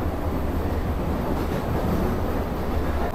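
Local train at Sodepur station, a steady loud rumble of rolling carriages and low engine drone running continuously without pause or voices.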